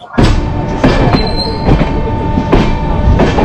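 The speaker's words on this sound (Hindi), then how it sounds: "तो ये हमारी ट्रेन अयोध्या कैंट से निकल के अब जा रही है अयोध्या धाम" An Amrit Bharat Express train on Indian Railways runs from Ayodhya Cantt toward Ayodhya Dham, heard loud and close from on board, with rhythmic clattering of the wheels over rail joints at regular intervals over a constant rumble.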